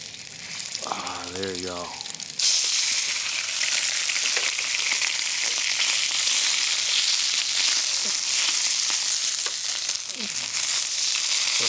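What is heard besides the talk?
New York strip steak frying in pan, fat side first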